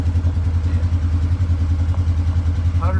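The engine of a Polaris RZR 900 four-seat idles close by with a steady, low, pulsing rumble and a slight clatter throughout.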